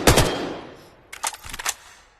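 AK-12 rifle gunfire in a VR shooter game: a loud, sharp burst of shots at the start, then a short quieter rattle of several rapid shots about a second later, with no talk.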